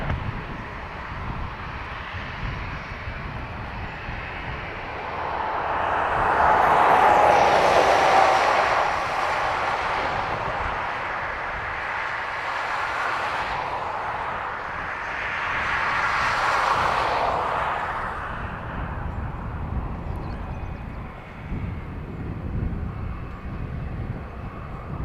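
An airliner takes off in a crosswind at Dublin Airport, a broad, distant jet roar swelling and fading in two long waves over about twenty-five seconds, with no talk.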